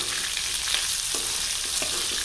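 Shallots and garlic stir-fry in a pan for a herb chutney, giving a steady sizzle with a few scraping stirs of the spatula, near and alone.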